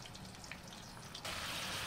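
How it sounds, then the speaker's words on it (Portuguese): Homemade sausage frying in a pan, a soft crackling sizzle that jumps to a louder, denser hiss partway through, with no talk. "E vamos deixar fritar aqui até ficar bem douradinha."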